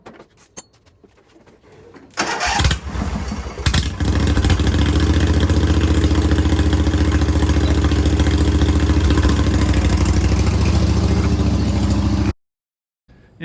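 A small tractor with a three-point hitch tiller cranks over and catches after a few seconds of quiet clatter, then settles into a loud, steady idle for about eight seconds before cutting off abruptly.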